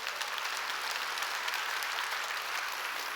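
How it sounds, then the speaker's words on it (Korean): A church congregation claps during a sermon, steady, dense applause holding at an even level for a few seconds, fairly soft and distant, with no voices over it. "내가 하나님의 비밀을 맡고 있는 목사라고 믿는 사람만 박수치세요."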